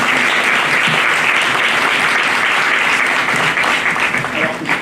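An audience applauds warmly and steadily at a French talk event, a dense sustained wash of clapping that holds at full strength for several seconds.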